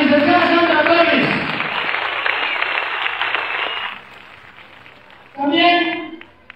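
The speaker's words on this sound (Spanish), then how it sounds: "Fuertes aplausos a la licenciada Sandra Torres." A crowd at a political rally in Santa Cruz Comitancillo applauds loudly and steadily for several seconds, fading out, then a shorter burst of clapping follows. A voice over a loudspeaker talks over the opening stretch.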